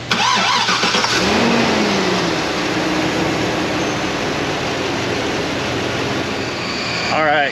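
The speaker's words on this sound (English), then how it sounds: "Re-beginning engine starting sequence now." A 2006 Chevrolet Silverado with an L80 engine and about 400,000 miles cranks and starts up, then settles into a loud, steady idle that fills the whole stretch, with a voice briefly audible early on.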